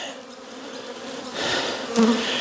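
Honeybees hum densely and steadily inside a barrel hive, close and constant, with the buzzing swelling louder near the end.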